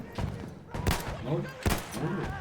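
Gunfire in the video game Battlefield 1, with several sharp bursts of shots and heavy thuds spread through a busy battle mix, heard close and loud alongside what sounds like a voice.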